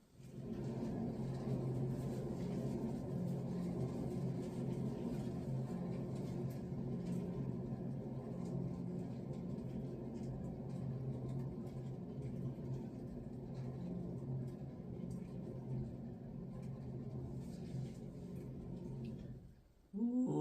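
A paint spinner motor turns a fluid art pour painting with gold edges, a steady close whirring hum with low rumble holding for about twenty seconds before cutting off abruptly at the end.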